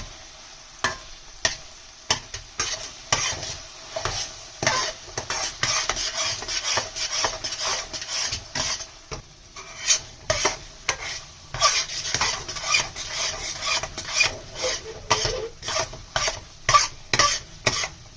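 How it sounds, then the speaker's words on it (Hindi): Thick lauki bottle gourd milk barfi mixture with ghee stirred slowly in a pan over a low flame, close, repeated scraping strokes of a spoon against metal in an uneven rhythm over a soft sizzle. "ये जो बर्फी को हम स्लोली इस तरीके से चलाते रहेंगे"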